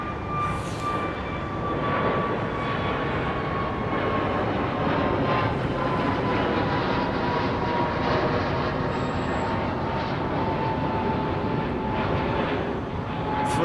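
A British Airways A380 preparing for departure at Heathrow Airport gives off a steady, broad jet engine roar with a faint high whine, constant and moderately distant for the whole stretch, with no voices.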